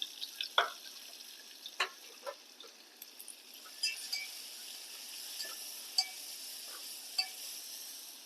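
A paste of garlic, ginger, coconut and coriander frying in a pan with curry leaves for a traditional bajra khichda: a quiet, soft sizzle broken by sharp spatula clinks and scrapes as it is stirred.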